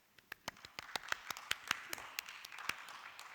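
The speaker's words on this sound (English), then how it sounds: "Let's give another round of applause for our awesome speakers" Applause for a school's Panorama 2021 speakers, heard as scattered, fairly faint clapping from a small audience, with individual claps standing out in an uneven rhythm for a few seconds.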